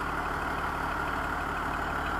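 A farm machine's engine idles steadily after its injection timing was advanced by half a degree, giving a continuous, even, fairly loud running drone with no pauses.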